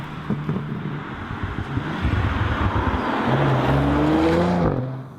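A BMW M4 coupé with rear-wheel drive accelerates hard out of a corner, its engine note climbing steadily in pitch and loudness before fading as it pulls away; no speech.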